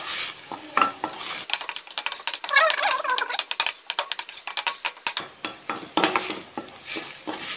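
Ground ginger-onion paste being sautéed with cinnamon and cloves for a chicken meatball curry. A spoon stirs and scrapes rhythmically against the metal pan over a light sizzle, close and fairly loud, with no voices.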